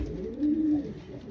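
A racing pigeon gives a single soft, low coo while being handled, close and clear against quiet background noise.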